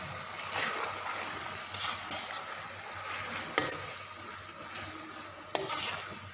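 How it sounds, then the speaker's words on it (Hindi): Mixed vegetables frying lightly in a pan for vegetable fried rice, a steady soft sizzle with occasional brief stirring scrapes and spatters, close and moderate, no voices. "अब इसमें सब्जियां डालेंगे, उनको फ्राई करेंगे हल्का सा।"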